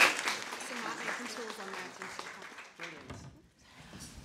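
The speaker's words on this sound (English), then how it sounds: "Big round of applause then." An audience applauds at the close of a talk on creative approaches in early years and KS1 teaching, a dense wash of clapping that fades over about four seconds, with a voice speaking over it.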